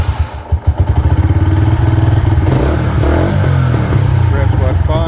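A Lexmoto Venom 125 motorcycle engine revs up and down in a few close, loud bursts, its rough throb rising and settling, with some mechanical clatter and a voice talking alongside.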